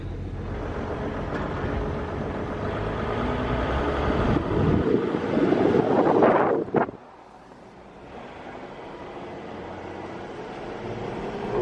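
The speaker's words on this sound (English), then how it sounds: "Love the sound of a diesel." A Mercedes diesel car engine rumbles loud and steady while driving, with wind buffeting the microphone, swelling briefly before dropping to a quieter, even drone.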